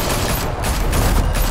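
Gunfire erupts in the Batman: A Telltale Series video game: a dense, loud, continuous volley of shots with no pauses, and no voices over it.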